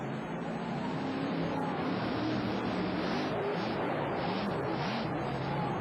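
A monster truck driving a 1991 USHRA course in Pontiac, Michigan, its engine a continuous distant roar with shifting pitch under crowd noise and an announcer's voice.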